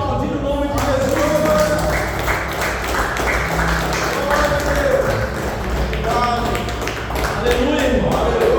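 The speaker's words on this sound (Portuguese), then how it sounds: "pode aplaudir o nome de Jesus." A church congregation applauds continuously and loudly throughout, a dense wash of clapping with a preacher's voice speaking over it.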